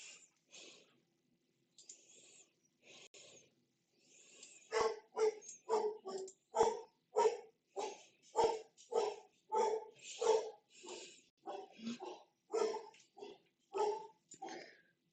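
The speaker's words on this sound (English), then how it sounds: "My dog's barking." A dog barks repeatedly in a steady run of sharp, close woofs, starting with a few softer barks and then growing louder and more regular, with brief snorting sounds between.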